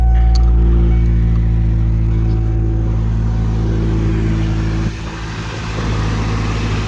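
A vehicle engine runs steadily at idle after firing up, with a loud continuous low hum and droning tones. The level dips briefly near the end, then picks back up.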